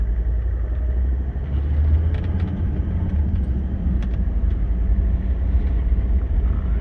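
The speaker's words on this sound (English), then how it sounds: "This is an OM 617, 5-cylinder diesel." A 1982 Mercedes 300CD's OM 617 five-cylinder diesel idles in a steady, loud, low rumble that holds unbroken throughout, close by with nothing else over it.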